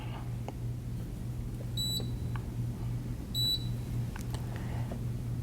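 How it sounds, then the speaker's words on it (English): A Carpigiani 191P-SP ice cream machine emits two short, high electronic beeps a couple of seconds apart over a steady low hum, warning that the mix level is too low. "This is a beeping sound that occurs when the mix level is too low."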